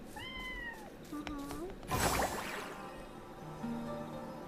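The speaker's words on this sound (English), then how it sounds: "I can't pet this cat for some reason" A cat meows in a video game, a few short, rising calls of differing length spread through the moment over a steady background of ambient game sound and music.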